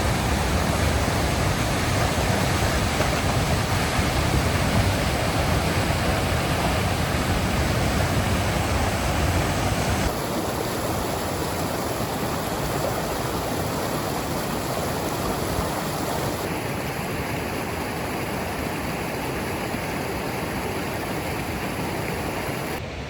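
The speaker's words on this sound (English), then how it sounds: "That is definitely not a creek. That is a river." Illilouette Creek in Yosemite rushes like a river, a loud, continuous roar of fast-moving water that fills the whole stretch without pause or voices.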